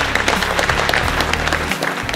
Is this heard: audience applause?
yes